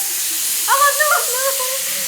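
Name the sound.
pressure cooker whistle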